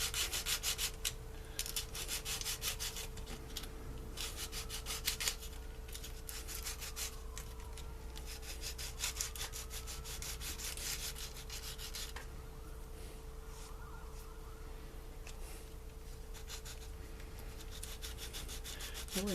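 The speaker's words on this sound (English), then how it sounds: "Just running it down some sandpaper here." A scale model airplane part, from a C-47 build, is rubbed back and forth across sandpaper, making a continuous, close, dry scraping with rhythmic strokes under a faint steady background hum.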